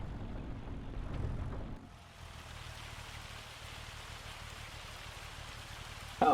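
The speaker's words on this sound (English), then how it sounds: "just in time because it's raining" Rain falls steadily in Farming Simulator 25 as a soft, even hiss over a low engine-like rumble, which drops away after a couple of seconds and leaves a constant wash of rain with no talk.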